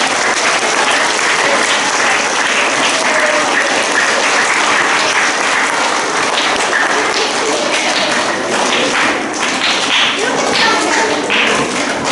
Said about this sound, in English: could we please give all of our stars a huge round of applause?